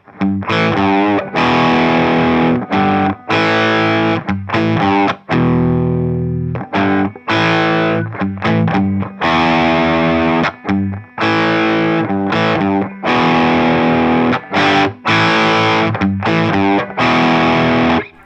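Loud distorted electric guitar power chords ring out in bursts, with choppy palm-muted strums, a bend, and sustained chords between them, played alone without any voice.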